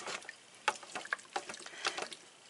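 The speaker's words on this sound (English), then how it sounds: "the next thing that I'm going to do is I'm going to stir this up" Cabbage casserole with potatoes, rice and ground chuck being stirred in a pressure cooker pot, giving soft wet sloshing and a few light scraping taps, fairly quiet and alone.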